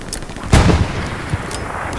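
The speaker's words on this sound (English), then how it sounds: "They're also shooting from that house." Gunfire in the World War II shooter Hell Let Loose, a loud close burst with a short rumbling tail and a couple of fainter shots around it, no voices.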